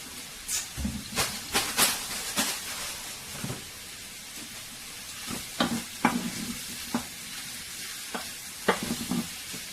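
A spoon scrapes and knocks against a saucepan in irregular strokes while mango simmers with a soft, steady hiss, close and moderately quiet.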